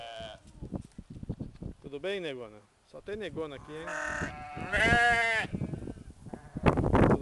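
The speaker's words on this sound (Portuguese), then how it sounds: "Ô, minhas ovelhas." Sheep bleat on a farm, with several wavering cries, some drawn out and loud, overlapping with people chatting nearby.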